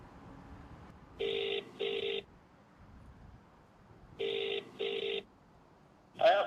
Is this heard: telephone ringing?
yes